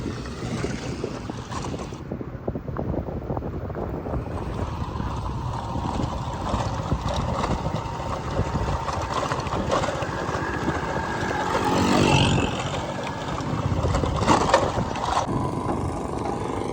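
A ferry boat crossing near Islamgarh, Mirpur, its engine a steady loud drone under heavy wind buffeting the microphone, continuous throughout with rough water wash.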